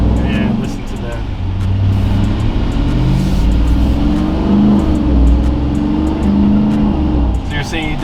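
A 2021 Ram TRX fitted with Hellcat engine upgrades rumbles and revs nearby in a deep, loud, continuous roar that rises and falls, with people talking over it.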